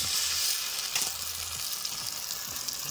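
Crab masala frying in a pan, a steady loud hiss and sizzle with occasional scrapes of a stirring spoon, close up and continuous.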